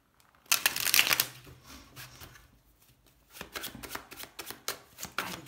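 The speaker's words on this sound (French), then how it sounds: "On va poser les 6 cartes." Six tarot cards laid out one after another on a table, soft papery slaps and brushes up close with a brief pause between two quick bursts of card handling, no voices.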